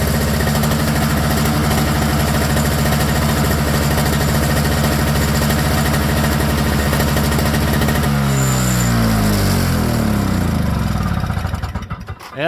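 A Toro snowblower with an R-Tek engine runs at a steady, even idle, loud and close. Its steady chug loosens and slows near the end as the throttle changes.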